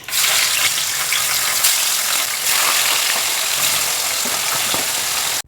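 Hilsa fish fries in hot oil with a loud, continuous sizzle and crackle that holds steady for several seconds before cutting off abruptly.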